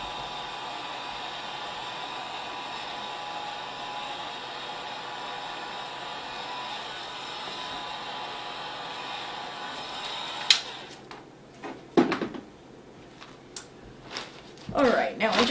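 A hot-air blower heats encaustic wax on a picture, a steady loud whooshing hum for about ten seconds, followed by handling clatter and rustling after it shuts off.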